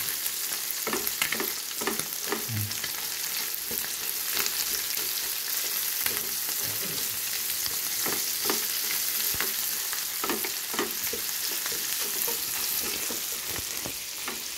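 Vegetables with dried fish frying in a pan, a continuous close sizzle punctuated by frequent scraping clicks of a utensil stirring, steady throughout with no talking.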